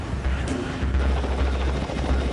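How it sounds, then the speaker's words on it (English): Military helicopter flying during an amphibious assault operation, a loud continuous rotor and engine roar with steady low thumping, close and dominant throughout with no talk. "Helicopters are used in amphibious operations in conjunction with amphibious vehicles and craft."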